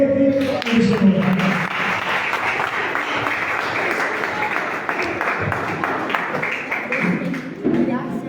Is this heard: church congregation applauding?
yes